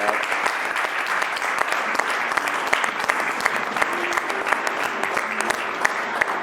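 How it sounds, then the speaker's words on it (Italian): An audience gives the referees dense, steady applause that holds at an even level from start to finish. "Allora facciamo un applauso agli arbitri."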